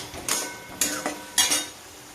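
A utensil stirs and sautés masala with tomato in a pan, making three distinct scraping clatters against the metal in an uneven rhythm, close and fairly crisp.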